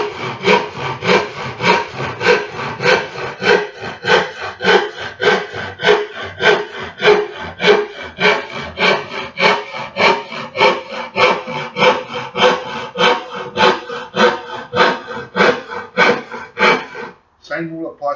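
A hand saw cuts through wood for a chess board with long, steady back-and-forth strokes repeating about every half second, loud and close, ending in a short scrape.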